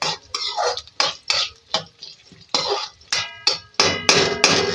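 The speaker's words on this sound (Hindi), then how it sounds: "लेकिन अभी नाज़रीन प्याज और हरी मिर्चों को फ्राई करेंगे।" Metal spoon scraping and clattering against a pan as onions and green chillies fry in half a cup of oil for an aloo baingan curry; repeated sharp stirring clinks in an irregular rhythm, close and fairly loud, with no talk.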